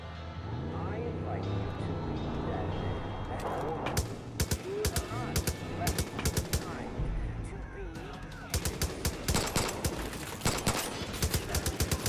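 Bursts of Far Cry 5 video game gunfire, repeated rapid shots in clusters over a steady game background, with someone talking over the opening stretch.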